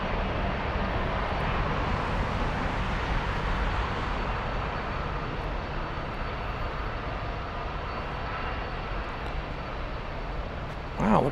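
An Airbus A340 takes off at Frankfurt, its engines a steady, fairly distant roar throughout, with brief talk and a short louder burst near the end.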